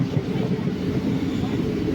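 A passenger train on the Guruvayur line in Kerala, heard from inside as it slows down: a steady low rumble of wheels and carriage noise, continuous and fairly loud throughout.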